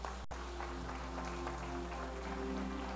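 A church congregation applauds for Jesus during a sermon, a dense, steady wash of clapping from many hands, fairly distant and sustained, over a low hum.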